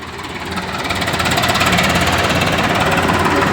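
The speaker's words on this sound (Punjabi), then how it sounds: "ਅੱਜ ਸੂਬੇ ਸੂਬਾ ਸਕੱਤਰ ਜਨਕ ਸਿੰਘ ਪਟਾਲ ਨੇ ਇਹਨਾਂ ਨੂੰ ਰਵਾਨਗੀ ਦਿੱਤੀ ਆ ਟਰੈਕਟਰਾਂ ਨੂੰ" Tractor engines of a farmers' convoy setting off, a loud, steady diesel chugging with a rapid knocking rhythm that builds in the first second and then holds close and continuous with no talk.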